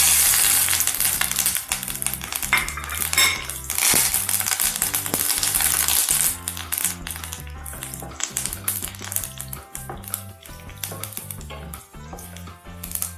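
Urad dal, curry leaves and green chillies frying in hot oil for coriander rice, a loud, steady crackling sizzle that runs throughout, with a few sharp pops and spoon stirs and no talk.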